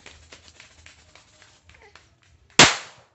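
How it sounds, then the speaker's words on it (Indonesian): A single sharp, loud firecracker bang near the end, ringing briefly, after a stretch of quiet rustling and faint background noise. "Iya, merconnya meletus ya."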